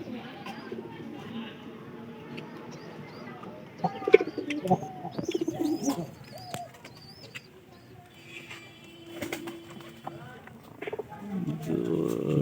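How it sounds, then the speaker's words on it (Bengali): Domestic pigeons kept in a house coo in soft, repeated calls mixed with occasional chirps, close by, while a person talks intermittently over them. "পায়রা কিছু না করে ডাকলো"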